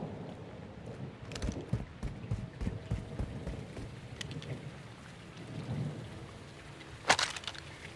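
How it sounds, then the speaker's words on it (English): Steady heavy rain pours in the game Call of Duty Modern Warfare 2, a dense hiss with rumbling low thunder and scattered sharper splashes and cracks, one louder near the end. "It's pissing it down out here."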